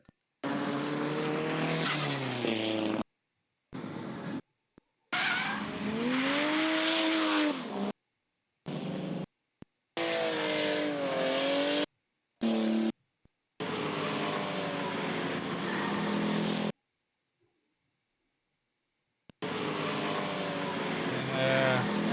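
Race cars, among them a Mazda RX-7, roar through turn one at a grassroots track event, engines revving loud and close in repeated passes, with rising and falling pitch and brief gaps between cars.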